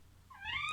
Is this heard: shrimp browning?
no